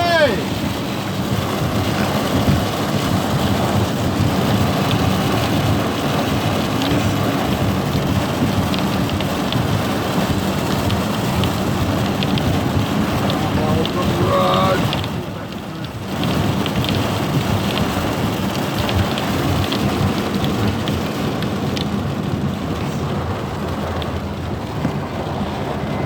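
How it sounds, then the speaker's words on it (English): Heavy rain pours continuously in a thunderstorm during flooding, a dense, loud roar of rain on surfaces with low rumbles mixed in, and people talking faintly beneath it. "it's raining really hard"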